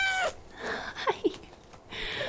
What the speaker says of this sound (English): I think these cats are the cutest cats I've ever seen.